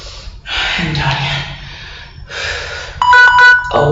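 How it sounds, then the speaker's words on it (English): A workout timer goes off with a bright repeating electronic ringing tone near the end, after a stretch of heavy breathing and gasps from a person exercising. "That is my timer."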